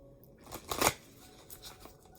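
Tarot cards are handled and slid together while the last card is picked, making a brief soft shuffle and flick burst that is quiet and close, followed by a few faint rustles.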